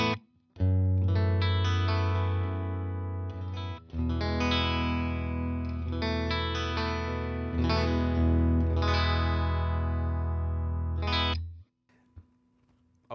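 Electric guitar played through a Mojotone BlackOut Tweed amp with volume at 8, treble fully off and bass fully up, giving loud, sustained, chimey chords with a brief pause and a final stop before a short trailing sound.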